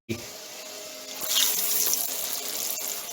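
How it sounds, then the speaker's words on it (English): Tortillas fry in hot oil for enchiladas verdes, a steady close sizzle that swells into a louder, brighter hiss after about a second. "Should be seeing those lovely bubbles popping up."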